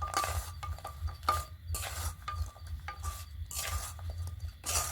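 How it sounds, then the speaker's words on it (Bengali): A metal spatula stirs fried sugar gaja pastries through sugar syrup in a pan, producing soft repeated scraping and wet sloshing strokes in a rough rhythm, with occasional light clinks. "রসের মধ্যে নেওয়ার পর খুন্তিতে ভালো করে এভাবে একটু নাড়াচাড়া করে নেব"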